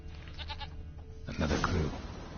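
Goat in The Witcher 3 video game bleating twice, a short call followed by a louder, rougher one, close and clear with a faint ambient bed and no talking.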